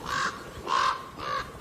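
A Steller's sea eagle gives three harsh, rasping calls in even succession over soft outdoor background, each call loud and close.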